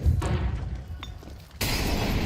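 Explosions in Counter-Strike during the BLAST Premier 2023 grand final, FaZe Clan vs Vitality: a deep booming thud opens, a rumbling tail decays, then a second loud blast with crackling debris bursts in near the end.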